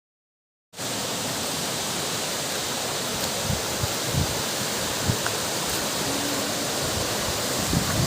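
Abbey Falls waterfall roaring as a dense, steady broadband wash that starts abruptly and holds constant, loud and close, with no voices over it.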